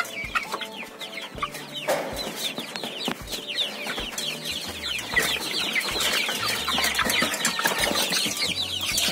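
Young roosters, about 200 birds around 50 days old, cluck continuously at close range in a coop in a small residential backyard, a busy overlapping chorus with occasional sharper squawks.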